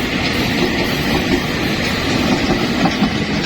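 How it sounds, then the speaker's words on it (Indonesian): An access train rolls beneath Jakarta International Stadium, its loud, continuous rumble and rhythmic wheel clatter filling the whole stretch up close. "Oh, keretanya lewat."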